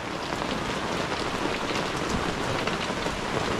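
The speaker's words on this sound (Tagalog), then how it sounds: "naabot na yung ulan." Steady, dense rain pouring down, a continuous hiss of drops hitting surfaces, loud and close with no voices.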